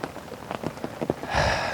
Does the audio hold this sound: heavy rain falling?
yes